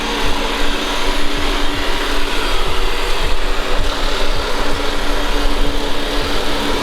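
A Deebot Ozmo 920 robot vacuum runs steadily indoors, a constant motor and brush whir with faint rhythmic ticks as it moves along the floor, near and unbroken.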